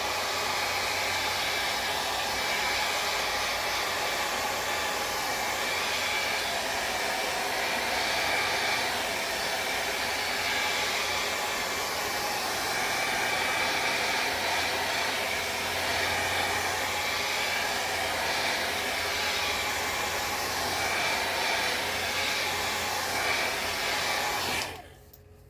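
Hair dryer blowing steadily and loudly on decoupage mulberry paper laid on a tray, a continuous close whoosh that cuts off abruptly at the end.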